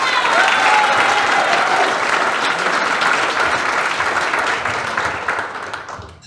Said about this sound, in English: Let's give a big round of applause for all the organizing that they did.